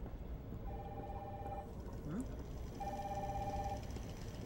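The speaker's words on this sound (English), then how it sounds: "Phone's dinging." Two short electronic phone tones sound about a second apart at moderate level over a steady background hum, with a voice talking quietly nearby.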